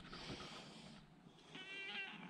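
A cat meows twice, a drawn-out cry followed by a higher, rising call, fairly close against a quiet background.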